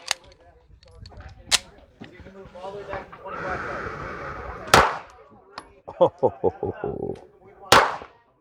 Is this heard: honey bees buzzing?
no